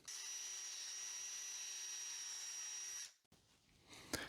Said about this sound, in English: I'm going to take a slightly larger drill bit and just make these holes slightly bigger than the dowel